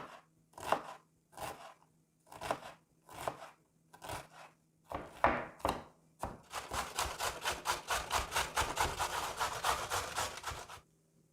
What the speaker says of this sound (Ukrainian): Нарізаю цибулю кубиком